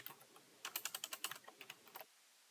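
Rapid keystrokes on a computer keyboard while entering a ceiling material name, a quick irregular burst of clicks that stops abruptly, fairly quiet and close with no voices.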